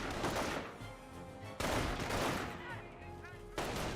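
Sustained gunfire from a World War II battle in Company of Heroes, with dense bursts of rifle and machine-gun fire that cut in abruptly at intervals, loud and continuous under a faint voice.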